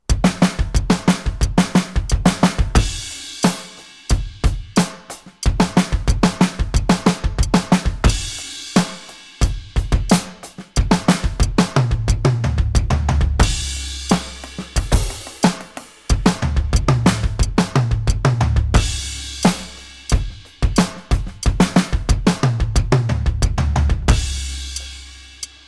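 Drum kit playing fills with double strokes on the kick drum, sharp snare and tom hits over rapid paired bass-drum beats, repeated in several loud phrases with cymbal crashes, no talking.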